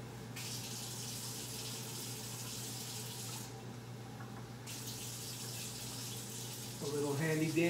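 Tap water runs in a steady, gushing stream into a pot holding rice, a continuous flow that briefly changes tone midway and ends with a louder clatter and splash.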